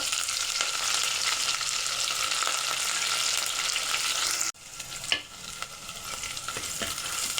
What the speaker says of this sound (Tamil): நல்லா பொரிஞ்சு வந்த பிறகு வெங்காயம் நம்ம சேர்த்து ஃப்ரை பண்ணிக்கலாம்.